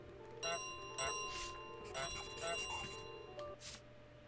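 A small bell in Untitled Goose Game jingles in a few separate bright rings with clear pauses between them, over a quiet background, as the bell is carried along.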